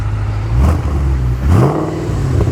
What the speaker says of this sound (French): j'ai demandé à Valentin qu'il nous mette 2-3 coups d'accélérateur